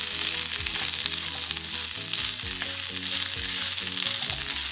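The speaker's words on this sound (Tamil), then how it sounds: "உளுந்து, ஜீரகம், கறி லீஃப் எல்லாம் ஆட் பண்ணி நல்லா வறுத்தெடுப்போம்." Urad dal, cumin and curry leaves with black pepper frying in a hot pan for vatha kuzhambu, a steady loud sizzle throughout, with low background music and no talking.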